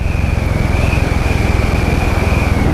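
Royal Enfield Classic 500 single-cylinder motorcycle engine pulling hard under open throttle, a steady loud low-pitched thump with a continuous whine on top, heard close and without speech.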